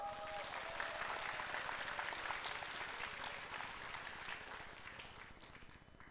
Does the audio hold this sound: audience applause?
yes